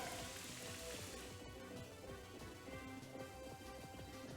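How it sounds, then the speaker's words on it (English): Rain effect from the Rain Dance move in the video game Pokemon Scarlet: a dense, continuous hiss of falling rain with crackling droplet patter, steady throughout and fairly quiet. "Rain Dance."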